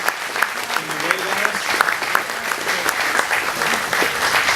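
A dinner audience at Sun 'n Fun gives a round of applause for Barry Vincent Smith, dense clapping from a crowd at close range, steady for several seconds with a few voices mixed in.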